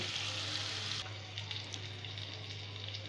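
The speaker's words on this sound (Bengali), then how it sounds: "আমার চিকেনটা ফ্রাই করা হয়ে গিয়েছে এখন আমি তেল ঝরিয়ে তুলে নেব" Chicken fries in hot oil for a chicken pizza, a steady close hiss of sizzling that is bright at first, then settles into softer crackling with a low hum underneath.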